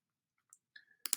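A few soft, brief clicks from a computer mouse, quiet and close, followed by a louder pair of clicks at the end, with no speech.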